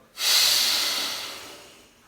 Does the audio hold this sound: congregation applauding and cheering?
no